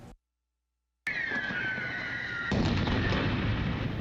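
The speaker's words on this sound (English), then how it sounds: "Gunfire and explosions disperse a crowd of peaceful protesters in Russian-held Energodar Saturday" Gunfire and explosions breaking up a protest crowd in Russian-held Energodar, Ukraine: a sudden loud blast opens into sustained roaring noise, and a second sharp burst follows midway, everything close and loud after a brief silence.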